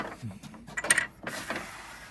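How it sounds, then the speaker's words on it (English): The locking mechanism on a Bosch 4100 XC table saw being worked by hand: a few close, quiet mechanical clicks and clunks with a short ratcheting rattle, no talking. "So on the BOSCH, there is also a locking mechanism, right?"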